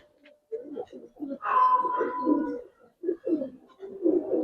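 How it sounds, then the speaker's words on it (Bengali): Big-headed Giribaz pigeons in a loft coo in repeated low, throaty bursts close by, with short pauses between the rolling calls and a brief higher sound partway through. "বড় মাথার কবুতর।"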